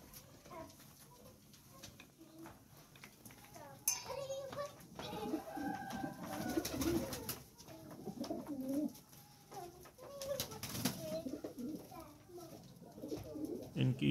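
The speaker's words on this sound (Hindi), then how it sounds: "कबूतर मैंने अपनी ज़िंदगी में पहली मरतबा पाले हैं" Pigeons coo softly and repeatedly at close range, their low burbling calls overlapping amid quiet rustling, with a voice speaking under them.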